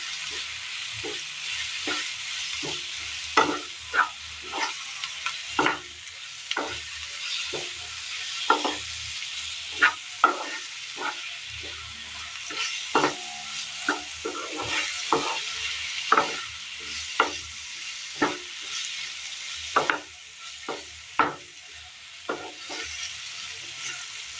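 Vegetables for a Kerala mezhukkupuratti stirred as they fry in a pan, a soft continuous sizzle broken by frequent sharp scrapes and taps of the spoon, irregular and close by.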